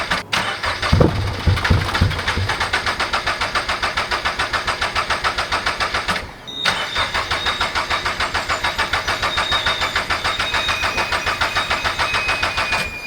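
A turbocharged Toyota GR86 fitted with bigger fuel injectors cranks and fires up, then settles into a loud, close, steady pulsing idle with a brief dip partway through.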